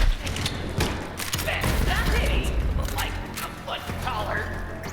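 Rapid gunfire with bursting impacts from the Borderlands 3 video game, a dense run of shots and thumps layered over game effects and a talking voice throughout.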